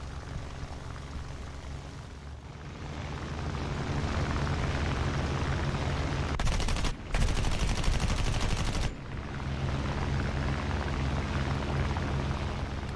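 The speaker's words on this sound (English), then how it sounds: "Short fired a high deflection burst and was able to achieve several hits." World War II fighter plane machine gun burst during a dogfight, a dense rapid rattle over a steady engine-like roar, with the firing peaking sharply for a couple of seconds in the middle.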